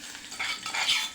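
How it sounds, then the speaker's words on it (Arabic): Garlic sizzling in hot ghee for molokhia, a brief, steady crackling hiss that swells slightly, close and fairly quiet, with no voices. "انزل بقى هنا بالثوم"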